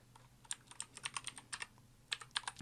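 Python code being typed on a computer keyboard: quiet, close key clicks in an irregular run, with a short pause before a final burst of keystrokes.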